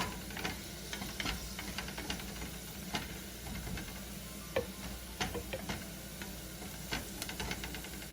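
Cumin seeds fry in a pan for East African fried rice while being stirred, giving a faint, steady sizzle broken by scattered small ticks and scrapes of the spoon, with no talking.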